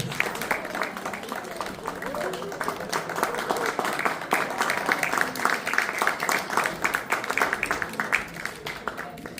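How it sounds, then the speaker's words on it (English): A crowd applauds steadily with dense overlapping claps, joined by cheering voices and murmuring throughout. "please welcome them with a big round of applause"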